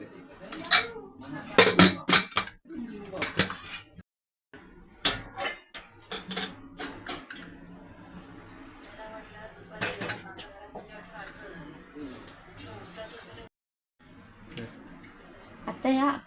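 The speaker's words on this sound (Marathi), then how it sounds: "त्यासाठी आपण कुकर लावूया।" A pressure cooker loaded with potatoes, peas, carrots, green beans and cauliflower is set up in a home kitchen for pav bhaji, with metal clinks and clanks of pot, lid and utensils in short bursts, while someone talks throughout.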